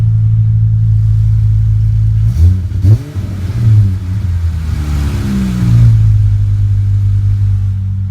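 A 2015-or-later Dodge Challenger with a modified exhaust holds a loud, deep idle drone, broken by a couple of quick revs that climb and fall before settling back into the steady rumble.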